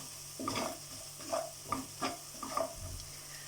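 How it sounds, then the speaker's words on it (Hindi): Ground dried coriander is lightly roasted in a pan for a samosa filling, with short, soft spoon-stirring strokes scraping over a faint, close sizzle. "अब इसको आप थोड़ा सा हल्का सा भून लें"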